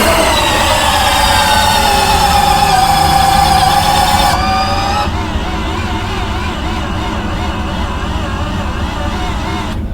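A small electric landing gear motor on a B-29 model whines loudly up close with a steady tonal drone, its pitch climbing then shifting into a different, lower hum partway through.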